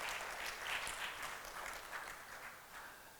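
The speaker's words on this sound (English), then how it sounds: "I request you to applause, a round of applause for that." Audience round of applause at a retail conclave, a fairly faint, distant patter of clapping that swells slightly early then gradually tapers off.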